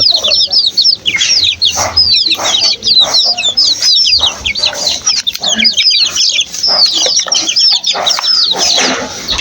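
Loud, dense peeping and clucking from a group of young chickens, continuous and close, with brief pauses between bursts of calls.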